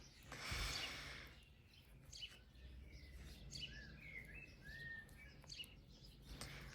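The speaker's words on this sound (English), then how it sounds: "can you hear the bird song? It's so pretty." Faint birdsong chirps and warbles in the distance, brief calls repeating over a quiet background with a soft breath near the start.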